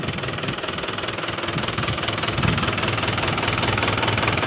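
A Mahindra 575 DI tractor, a 2017 model, runs steadily in a farm setting, its diesel engine giving a continuous, close, fairly loud rumble with a slight knocking texture and no voices.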